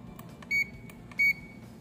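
A digital multimeter in continuity buzzer mode gives two short, steady electronic beeps about half a second apart while testing a relay, against a quiet background with faint clicks.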